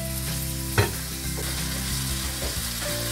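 Mackerel fillets frying in a pan, a steady loud sizzle and crackle of hot oil with a clunk of the fish being turned partway through.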